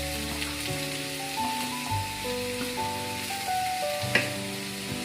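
Sliced onion, raw papaya and green chilli sizzling in hot oil for a papaya thoran, a constant close hiss with one sharp clack near the end, over steady background music.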